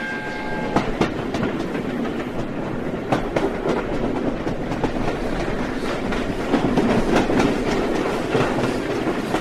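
Steam-era style train rolling on rails as a radio-drama effect, a steady loud rumble with rhythmic clickety-clack of wheels over rail joints throughout, no voices.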